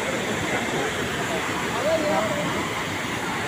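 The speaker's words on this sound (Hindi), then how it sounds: "ये देखे झरना" Steady broadband rush of a waterfall at Siddhnath Dari, Mirzapur, continuous and fairly loud, with a faint voice briefly audible in the middle.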